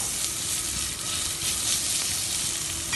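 Carrots frying in a little oil in a hot pot, a loud, steady close-up sizzle with light stirring, no talking.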